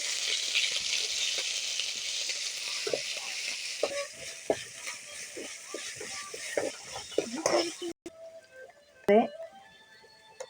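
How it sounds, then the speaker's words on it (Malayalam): Crushed ginger and garlic sautéing in oil for a fish curry, a steady hiss of frying with scattered scrapes and knocks of a spoon stirring, fading partway through, then a few sharper clatters near the end. "ഇനി ഇഞ്ചിയും വെളുത്തുള്ളി ചതച്ചത് വഴറ്റുകയാണ്."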